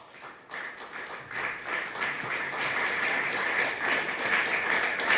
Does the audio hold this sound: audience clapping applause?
yes